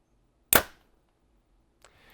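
A Hoyt RX5 compound bow fires with one sharp, loud snap and a quick fading thump, followed by quiet and a faint rustle a little over a second later.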